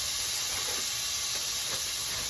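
Small chopped shrimp pieces cook in a hot pan for coconut shrimp egg rolls, giving a loud, steady, close hissing sizzle without a break and no voices.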